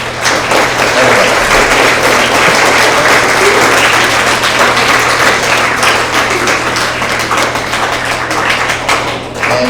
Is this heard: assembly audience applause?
yes